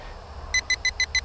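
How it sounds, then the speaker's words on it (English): A VISUO XS812 GPS drone gives a low-battery warning of five short, evenly spaced high electronic beeps outdoors on a field, clear over faint background noise, with no talk. "that's the sound telling me that I'm low on power"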